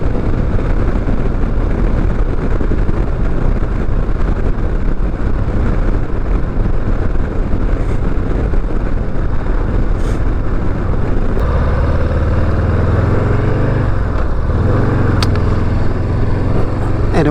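Stock 117 engine of a 2023 Harley-Davidson Low Rider ST on a test ride, a loud, steady motorcycle drone with heavy wind rush throughout, the low rumble swelling louder near the end as the bike pulls harder.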